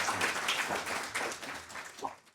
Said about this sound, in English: let's have a big round of applause for Christopher